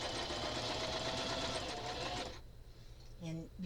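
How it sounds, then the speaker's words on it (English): A small sewing machine dedicated to paper, run by a foot pedal, whirs steadily for over two seconds while stitching, then stops; talking follows in the quieter remainder. "this is my little baby sewing machine that I bought just for a couple years ago. I got this. Oh, I keep looking for the button. There's no button. I gotta use the foot pedal"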